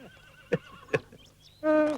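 A horse gives a loud, close whinny at the end, a quavering, high-pitched neigh after two sharp hoof knocks and a quiet stretch, with no speech over it.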